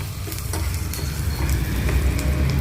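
Curry leaves crackle and sizzle in hot oil, a steady, close frying hiss that builds slightly over a few seconds with faint stirring and scattered pops, no voices.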